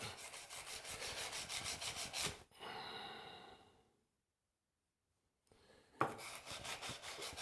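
A plane blade is rubbed back and forth on an oiled sharpening stone in a workshop, making rhythmic rasping strokes close up, broken by a pause and near silence before the strokes resume.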